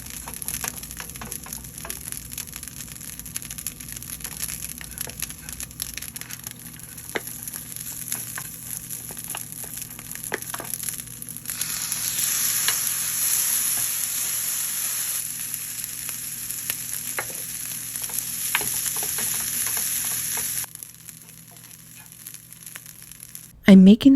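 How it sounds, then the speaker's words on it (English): TVP fries in a pan with a continuous crackling sizzle and scattered sharp pops, growing brighter and louder midway, then dropping off before a brief loud bump at the very end. "The TVP was literally popping out of the pan."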